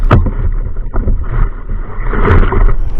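Strong wind buffeting the microphone outdoors, loud low rumbling gusts that swell and fade over a few seconds, with no talk.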